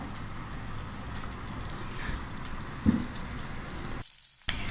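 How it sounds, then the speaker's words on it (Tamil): Sliced big onions with ginger and garlic sizzle steadily in a pan for Tamil-style chicken kulambu, a soft continuous frying hiss with a brief clatter near the middle and a short pause near the end. "வெங்காயம் நல்லா வணங்கணும்."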